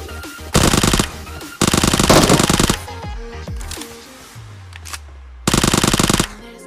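Gunfire in the mobile game PUBG Mobile: three loud, sustained bursts of rapid automatic fire, separated by quieter stretches with scattered game effects and a low engine-like drone.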